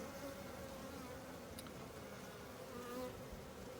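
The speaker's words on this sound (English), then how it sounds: "the worker bees come in to guide her out" Honey bees swarm around a package queen cage at a hive, a dense, continuous buzzing hum that stays steady and fairly faint throughout, no talking.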